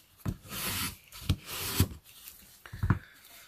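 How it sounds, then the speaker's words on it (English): A bone folder or similar tool rubs and burnishes paper onto cardstock during card making, giving soft scraping strokes with a few sharper taps, close and quiet with no talking. "then we're going to turn this on the inside and we'll burnish it from there"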